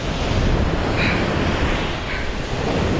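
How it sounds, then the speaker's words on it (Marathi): Sea waves surging around a thermocol raft by the shore, a constant loud wash of surf blended with wind noise on the microphone, no voices. "हे बघा लाटा बघा कशा घटकाला खाली खेचत आहेत"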